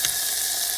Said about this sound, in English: Now after my garlic fragrant, I drop in the shrimp.